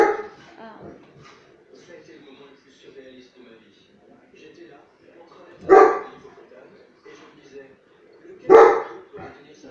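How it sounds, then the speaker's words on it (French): Dogs bark in two loud bursts, with whimpering and yips in between, heard under ongoing talk. "Vous entendez mes chiens?"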